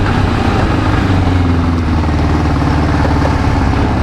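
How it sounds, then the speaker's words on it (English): A 1988 Kawasaki GPX 600R with a 592cc engine runs close by, a continuous mid-pitched motorcycle drone with tonal bands that rise and dip slightly as it moves through the gears. "Goes through all the gears and down the gears"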